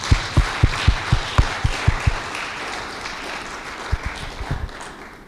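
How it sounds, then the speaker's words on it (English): At a national policy conference on early childhood care, an audience gives a short round of applause, beginning with crisp spaced claps that blend into a broad wash of clapping before fading out. "Let's give a round of applause to them."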